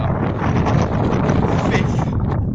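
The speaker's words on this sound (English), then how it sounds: "strong left to right wind here" Strong wind buffets the microphone at an outdoor air rifle range, making a loud, continuous low roar and rumble that covers the whole clip.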